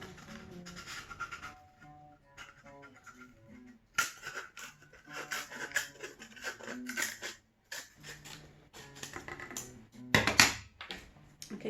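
Scissors snipping through cardboard for a homemade Halloween piñata, a run of crisp irregular cuts and crunches close by, with quieter pauses and a few sharper bursts.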